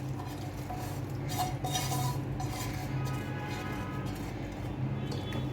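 A metal spoon stirs tempering (tadka) into mixed lentil dal in a pot, giving repeated close scraping and clinking against the pot with no talk.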